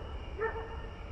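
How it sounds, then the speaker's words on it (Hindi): A single short dog bark sounds somewhere in a residential neighbourhood, faint and distant over a low background hum. "मोहल्ले में कहीं कुत्ते भौंक रहे थे"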